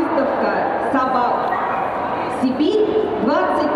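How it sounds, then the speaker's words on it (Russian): Dogs at an international all-breed dog show in Novosibirsk give several yips and whimpering barks over loud, continuous hall noise, with speech running throughout. "Международная выставка собак"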